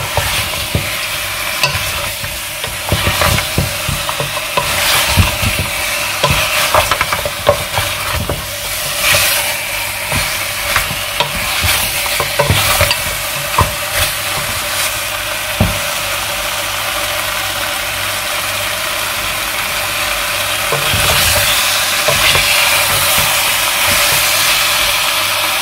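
Food fries in oil in a pot for a leafy okra and spinach dish, with repeated scraping and clattering stirs over a continuous sizzle that stays close and fairly loud throughout.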